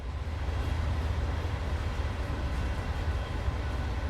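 A long nine-car DB BR 363 train rumbles along the Maintalbahn in Train Sim World, a steady, dense rolling roar without pause as it climbs uphill at low speed.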